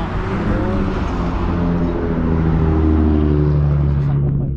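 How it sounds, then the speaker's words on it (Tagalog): A car passes along a road in New Zealand, its engine and tyre noise steady and fairly close before fading off near the end, with faint background sound and no clear talk. "Sasakyan pa isa."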